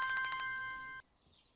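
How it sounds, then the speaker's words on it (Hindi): A mobile phone ringtone chimes in a quick pulsing burst of bright tones, holds for about a second, then cuts off abruptly into near silence. "फोन बज रहा है तुम्हारा, देखो जरा, उठा लो"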